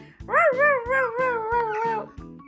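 A human voice imitates dogs barking and howling during toy play, a rising then wavering drawn-out howl held for about two seconds, close and clear, over a rhythmic patter of repeated light taps.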